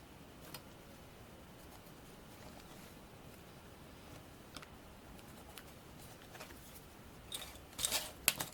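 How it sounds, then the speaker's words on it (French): A sticker is cut by hand, with faint, sparse snips and scratches of the blade over quiet room tone, building into a short cluster of sharper cutting clicks near the end. "je vais venir découper"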